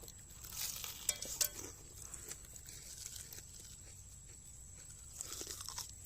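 Close, crisp crunching bites of village-style fried Lays and Bingo chicken roast with chewing in between, irregular bursts clustered near the start and again toward the end, fairly quiet overall.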